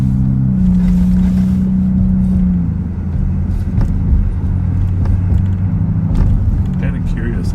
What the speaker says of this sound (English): You pay a lot of money to get your muffler to sound like that.